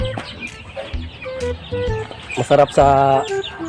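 Chickens and chicks clucking and peeping nearby on a farm in short bursts, mixed with a few brief spoken words.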